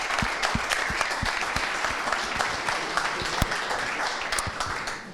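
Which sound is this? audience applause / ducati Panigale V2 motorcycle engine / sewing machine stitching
audience applause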